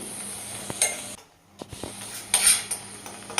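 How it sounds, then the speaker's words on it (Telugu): Green chillies and curry leaves frying in a pan for a stuffed brinjal gravy, with a steady sizzle broken by scraping stirs and clinks of a utensil against the pan, close and moderately loud, no talk. "కరివేపాకు రెండు రెండు వేసాను ఇది కూడా వేసుకొని ఫ్రై చేసుకోవాలి"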